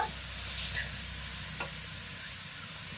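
Squeezed momo filling fries briefly in a pan, giving a soft, continuous sizzle with a faint clatter near the middle.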